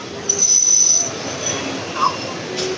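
Intercity express train pulling into Sonipat station, about 35 to 40 minutes late, with a steady rumble of rolling stock, a long thin wheel squeal and a brief higher screech near the end.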